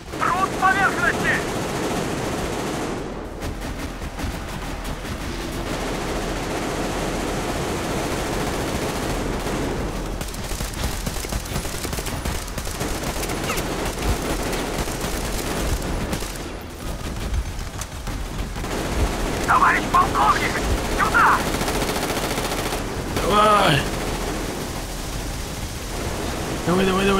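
Bursts of rapid machine gun fire crackle over a dense wall of noise, with explosions and battle din throughout, in the video game Metro Exodus.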